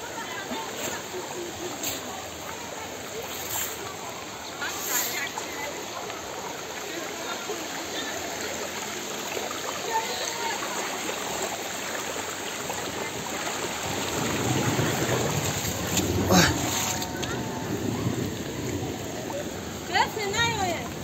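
Mudflow floodwater rushes into a house in Kulob, a steady broadband roar of churning water that swells louder in the last few seconds, with voices faintly present underneath.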